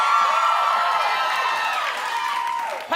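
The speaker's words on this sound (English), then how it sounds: "I appreciate the claps" A television studio audience claps and cheers in a dense, sustained roar that slowly tapers, fairly loud and without speech over it.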